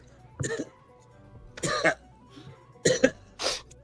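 A person coughs several times in short, harsh bursts with pauses between them, close to the microphone during a casual book-discussion show.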